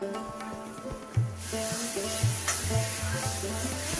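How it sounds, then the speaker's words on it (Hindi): Steady sizzling of spices and dal tempering in hot oil in a kadai, with a hiss that swells partway through and faint clinks of stirring. "पहले मैं उसमें दाल छौंक लूंगी"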